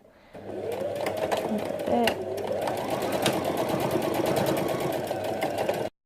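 A home sewing machine running steadily on a straight stitch at setting 3 while sewing a baby top's shoulder seam, a continuous close whirring hum for about five and a half seconds with faint talk beneath.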